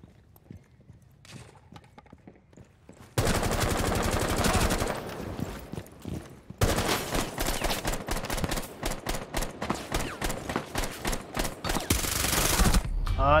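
Bursts of close rapid gunfire in the tactical shooter Rainbow Six: Siege, loud sustained volleys broken by a short pause, then a rhythmic string of individual shots before a final heavy burst.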